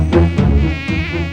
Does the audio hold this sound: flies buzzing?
yes